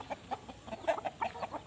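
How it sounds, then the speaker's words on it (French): Fighting roosters penned on a Thai farm clucking in quick, uneven bursts, several calls overlapping at close range, fairly quiet and with no talk over them. "ce que j'appelle les coqs sportifs, eh ben, c'est les coqs de combat"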